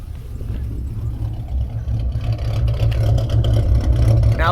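A 2008 Mustang with a 4.0 V6 idles through its exhaust, close and steady, with a low, uneven lope that chops the rumble.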